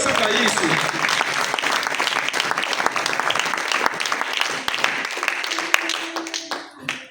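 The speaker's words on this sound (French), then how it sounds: "j'aimerais que tu acclames très fort pour Jésus" A church congregation applauds loudly and continuously, with dense clapping and cheering filling the room throughout, tapering slightly at the very end.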